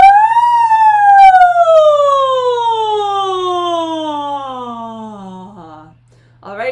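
A group of voices imitates a siren together, one long smooth glide sliding slowly downward from high to low, sustained for several seconds before fading out.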